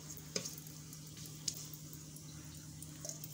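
Spices temper in hot oil for a vegetable rava kichadi, giving a faint steady sizzle with a few sharp crackles and pops, no talk over it.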